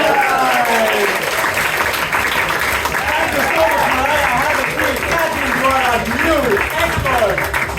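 Theater audience applauding steadily and loudly under an improv host's voice, with cheering and voices mixed into the dense clapping.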